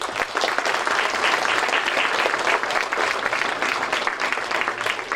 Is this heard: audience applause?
yes